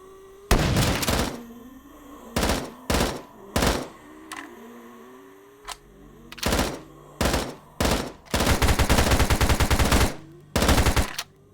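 Rapid bursts of gunfire in a VRChat shooting game, several loud close volleys separated by short pauses, including one long sustained stretch of fast shots near the end.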